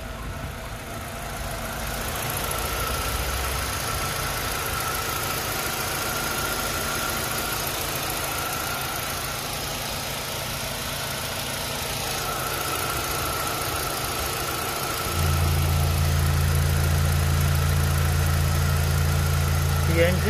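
A 2010 Kia Soul gasoline engine idles steadily with a low, even hum, a slight rise in loudness toward the end, with no voices.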